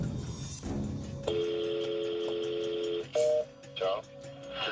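A phone call recording starts with a short burst of noise, then long steady dial tones and beeps, followed by brief tone bursts that sound like keypad dialing.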